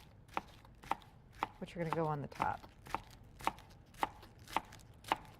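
Knife chopping scallions on a cutting board, sharp, evenly spaced knocks about every half second, close and fairly quiet, with someone briefly speaking partway through.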